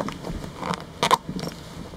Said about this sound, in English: But you can close the zipper completely.